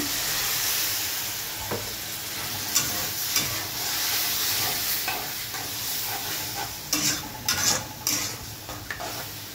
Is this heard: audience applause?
no